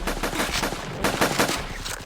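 Bursts of rapid gunfire in the Roblox game Trench War, close and loud, with shots coming in quick clusters and brief gaps between volleys, no voices heard.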